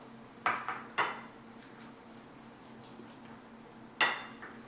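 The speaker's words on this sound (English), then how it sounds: "Imagine that, dishes clinking in the kitchen." Dishes and cutlery clink in a kitchen in three sharp, bright knocks spread over a few seconds, over a low steady hum and faint background noise.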